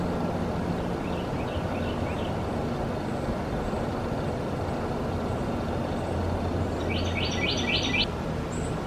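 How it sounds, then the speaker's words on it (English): Outdoors, birds give a few faint chirps early, then a brief, clearer burst of rapid repeated notes near the end, all over a steady low background rumble. "Bird all the time."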